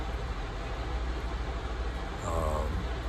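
Steady low rumble and broadband hum inside a moving passenger train in the early morning, continuous and fairly loud, with a brief brighter swell of rail noise near the end.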